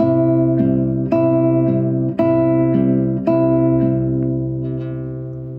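Plucked classical guitar strings in a steady measure of picked notes over sustained bass tones, close and clean with no voices.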